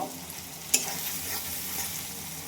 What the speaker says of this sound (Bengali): পেঁয়াজ রসুন কাঁচা মরিচ পরিমাণ মতন সব কিছুকে চিংড়ি মাছ দিয়ে লাউ শাকটা রান্নার জন্য কষিয়ে নিচ্ছি